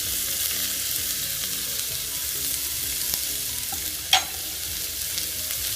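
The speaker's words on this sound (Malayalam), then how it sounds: "എണ്ണയ്ക്ക് ആ ഗാർലിക്ക് ഞാൻ ഇട്ടിട്ടുണ്ട്. അതിലോട്ട് ഉള്ളി" Onion and garlic fry in hot oil, a steady soft sizzle running the whole time with a few faint stirring scrapes and one brief clink near the end.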